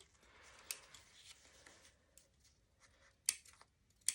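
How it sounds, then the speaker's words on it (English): Scissors snip into the corner of a fabric pouch, giving two faint, crisp cuts near the end after quiet handling of the material. "we're going to snip into this corner."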